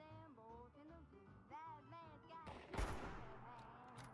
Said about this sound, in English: Hey, dude, I just shot you in the chest.